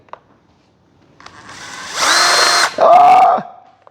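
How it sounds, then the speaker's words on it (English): Power drill boring a hole in a Fi 186 Storch model airplane with a 1.6 m wingspan, two loud close bursts of whirring separated by a brief pause, with soft handling noises before and after. "I think there's never a better time than the current to drill the other hole"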